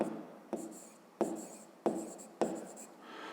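Pen strokes on paper as someone writes out a math exercise by hand, several short scratchy bursts in a steady rhythm, close and fairly quiet, with no talk.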